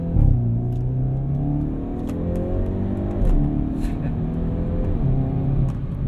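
A 2022 Hyundai Veloster N hot hatch accelerating hard, its engine note climbing and dropping through abrupt dual-clutch gear shifts, loud from inside the cabin with people talking.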